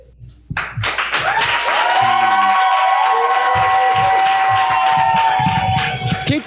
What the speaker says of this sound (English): Keep that round of applause going for Kalalia.